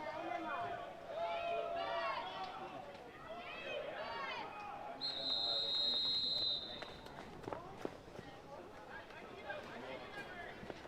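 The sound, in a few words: referee whistle at a lacrosse match for a penalty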